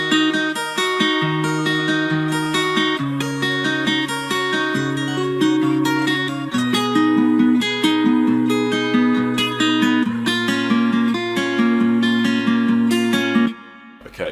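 Layered guitar melodies with a gospel female vocal preset in a hip-hop beat arrangement, a dense, loud, continuous stack of plucked notes and sustained tones, cutting off near the end.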